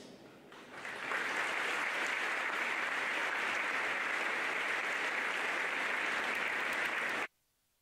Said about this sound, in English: Please stand, and we'll clap for you because you definitely earned it.